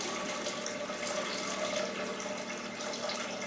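Water pouring steadily into a blender jar, about three cups, for a green smoothie; a continuous, fairly soft splashing stream with no talk.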